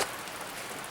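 Steady rain falling outdoors, a dense even hiss of drops on surfaces with no voices, constant and fairly close throughout.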